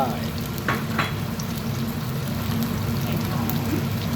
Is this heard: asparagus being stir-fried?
yes